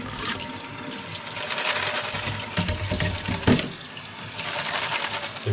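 Soaked pea shoot seeds being rinsed with water, a steady splashing and gurgling wash that runs throughout with a brief louder slosh partway through, no talking.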